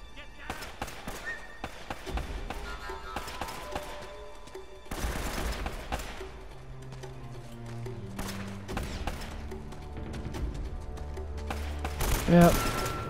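AK-47 gunfire in Uncharted: Drake's Fortune, sharp bursts and single shots spread across the stretch with heavier volleys midway, mixed with game sounds and a voice talking over it.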